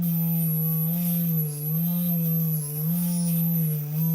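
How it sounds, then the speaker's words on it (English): A jeweller's drill opens up the seat for a stone in a piece of handmade jewellery, giving a steady high whine with gentle wavering in pitch. The sound runs continuously and close, with no voices. "not moving the bottom of the drill, but kind of the top, will help to open up that final seat"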